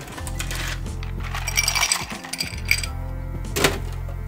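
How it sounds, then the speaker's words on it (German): Ice cubes clink and rattle as they drop into a tall cocktail glass, a series of bright clattering hits over a steady low hum, loud and close. "In ein langes Glas, die hat Eiswürfel drin."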